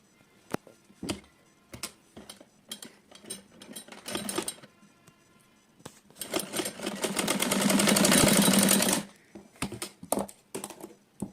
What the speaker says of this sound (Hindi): तो हम यहाँ पे सिलाई लगा लेंगे।